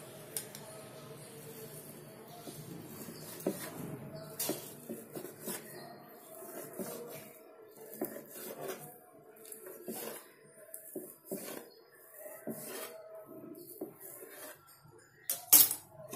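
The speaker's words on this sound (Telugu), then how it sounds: "వీటిని ఇప్పుడు నూడిల్స్ లాగా కట్ చేసుకోవాలి" A knife slices a rolled egg omelette into thin noodle strips on a board, giving a series of irregular clicking taps and knocks with quiet gaps, closer and sharper near the end.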